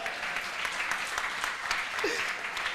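Audience at a French-language Easter church seminar applauding, a steady dense clapping wash that fills the whole stretch at moderate loudness, with no clear voice over it.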